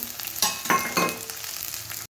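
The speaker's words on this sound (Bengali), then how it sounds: "এরপর এতে লঙ্কার কুচাগুলো দিয়ে দেবো" Chopped green chillies fry with onion in an oiled pan for a meat and potato curry, giving a quiet continuous sizzle with several stirring scrapes and light clinks before it cuts off suddenly.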